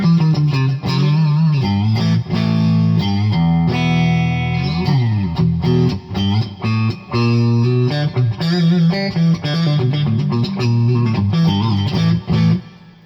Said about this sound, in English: it's got a really, really good sounding, almost breaking up clean tone